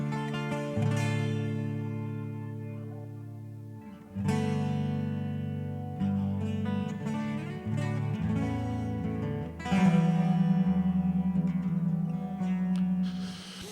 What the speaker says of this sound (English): So what you hear are these reverse delays, but I am enhancing them by putting modulation here